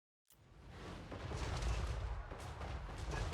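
An artillery volley fires in the fantasy battle game Total War: Warhammer 3, a sudden heavy boom that swells into a sustained, rumbling roar of distant impacts.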